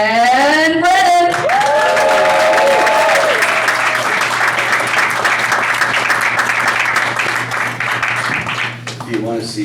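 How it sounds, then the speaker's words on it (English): Audience applause and cheering for stand-up comedian Dan Brennan, loud sustained clapping from a full crowd with a few whoops, under an announcer's voice at the start and fading near the end. "please give a big round of applause for my friend and yours, Mr. Dan Brennan"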